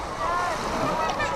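Ocean surf at Patar Beach in Bolinao, with broad washing wave noise and wind buffeting the microphone, steady and fairly close, as people wade into cold, quickly deepening water.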